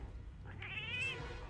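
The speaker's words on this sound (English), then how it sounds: "The company has a cat." A single cat meow, rising and wavering over about half a second, heard up close against a low background hum in an office setting with a resident cat.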